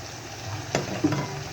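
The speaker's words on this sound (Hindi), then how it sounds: "अच्छी तरीके से मसालों को तसल्ली से भून लेते हैं।" Chopped tomatoes with salt, chili and turmeric fry in oil in a pan, a quiet, steady sizzle with a couple of sharp stirring clinks near the end.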